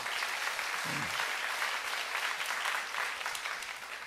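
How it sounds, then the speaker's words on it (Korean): A church congregation at a Sunday worship service applauds together, a dense, sustained clapping that fills the room for several seconds before tapering slightly, with a brief low vocal sound near the start. "우리 박수 한번 쳐주세요"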